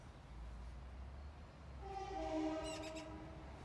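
A distant train horn sounds a sustained harmonic blast over low rumbling background noise, rising slightly louder before fading.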